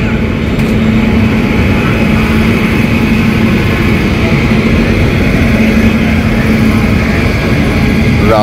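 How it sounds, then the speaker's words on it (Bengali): Kolkata–Jaynagar weekly express pulling out of Barauni Junction, a steady loud low rumble with a droning hum throughout, continuous and close as if heard from inside the coach. "আমাদের ট্রেন অবশেষে ছাড়লো বারাউনি জংশন থেকে।"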